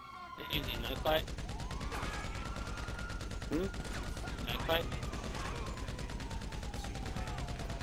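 Gunfire crackles through a video game gang war, with rapid, evenly spaced shots repeating steadily over several seconds, interrupted by a few louder bursts and layered with other game noise.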